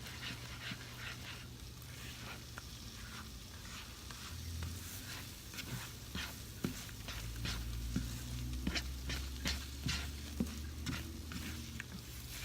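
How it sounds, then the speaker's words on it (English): Scrambled eggs fry in a skillet as they are stirred with a non-metal utensil in circular motions. There is a steady sizzle with soft scraping taps close by, and a dog pants and whimpers nearby. "And with scrambled eggs, just give them this nice little circular motion."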